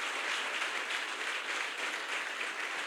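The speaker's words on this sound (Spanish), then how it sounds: "Démosles un aplauso también a ellos." A church congregation applauding, a dense, even wash of many hands clapping at moderate distance, sustained for a few seconds without a break.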